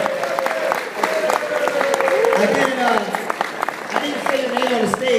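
Conference audience clapping for a keynote speaker, sustained applause under a loud voice speaking over it, with some crowd noise.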